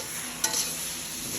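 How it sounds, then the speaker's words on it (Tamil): Tamarind water poured into a hot pan of okra curry, a short burst of hissing splash followed by a steady sizzle, close and alone. "இப்போ இந்த கோதாமையில் இந்த புளிக்கோதாவை விடுவோம்."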